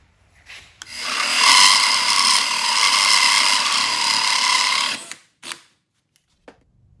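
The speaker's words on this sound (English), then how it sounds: "So start slow as you drill your way down." A drill bit grinds steadily into a laminated wooden door for about four seconds, started slow, close and loud, with brief tool noises before and after.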